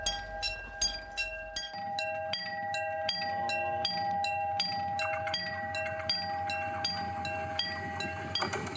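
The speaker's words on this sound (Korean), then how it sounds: "멀리서 기차가 달려오고 있다." A train rumbles in from a distance at a level crossing in Yecheon, North Gyeongsang, South Korea, with a steady warning tone and repeated ringing bell strikes over the growing rail noise, in winter.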